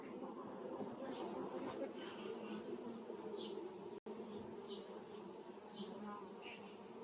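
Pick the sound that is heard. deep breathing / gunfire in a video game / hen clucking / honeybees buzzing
honeybees buzzing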